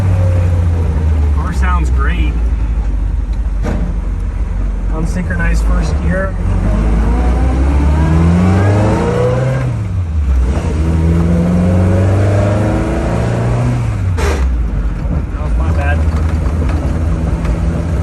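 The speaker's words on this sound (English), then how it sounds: "Car sounds great. Unsynchronized first gear." A 1968 Triumph Spitfire engine revs and accelerates through gears, including an unsynchronized first gear, pitch sweeping up and down loudly, with brief voices in the background.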